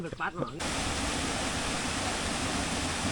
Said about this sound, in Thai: นี่แหละพี่น้องน้ำตกตาเฮียคำ